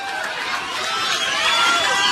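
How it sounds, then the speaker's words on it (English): Protesters during the Oakland Occupy strike crowd outside a Chase Bank and cheer, a broad outdoor roar of many voices and babble that swells louder toward the end. "We're at Chase Bank. And everybody's cheering."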